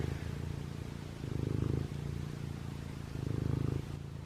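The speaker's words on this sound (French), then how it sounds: "Elle est en train de ronronner." A cat hidden under a piece of furniture purrs softly and steadily, its close, low rumble rising and falling in slow breaths, with faint rustling.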